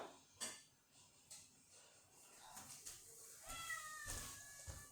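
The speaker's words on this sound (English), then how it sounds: "Cat, shut up!" A house cat meows several times in a home kitchen, faint and somewhat distant, with light clinking of cups being unloaded from a dishwasher in the background.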